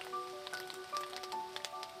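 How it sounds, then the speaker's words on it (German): Rain pattering at a fishing spot, scattered quiet drops tapping on a surface over a faint steady hiss, with brief bright ticks and a thin electronic tone recurring in the background. "Regnet jetzt schon wieder oder immer noch."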